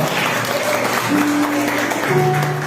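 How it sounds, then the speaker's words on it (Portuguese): A church congregation applauds in a continuous loud patter of clapping, with a few voices and sustained tones mixed in underneath. "Aplauda o Senhor."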